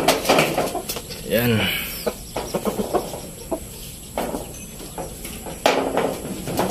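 Japanese Shamo brood cock rooster, seven months old, giving a few clucks and vocal bursts near the microphone, mixed with someone speaking intermittently and farm background noise.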